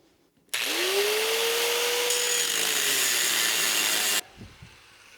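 A power tool slices a metal tab off a 1965 Thunderbird during battery tray and front apron rust repair. It spins up with a rising whine, cuts loudly and steadily for about three and a half seconds, then stops abruptly.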